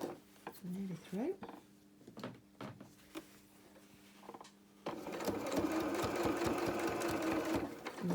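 A domestic sewing machine stitches a 3D felt flower, first with a few quiet clicks and handling knocks, then a steady, fast mechanical whirr of needle strokes that runs close and fairly soft.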